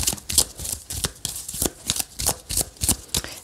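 Tarot cards shuffled by hand in a quick, steady riffling rhythm, crisp papery flutters repeating about every third of a second, close and clear with no talking.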